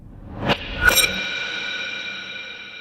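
Reversed samples are sent through Eventide MangoVerb reverb, giving a spacey effect: two swelling reversed hits rise sharply, then a long shimmering tonal tail fades out slowly alone.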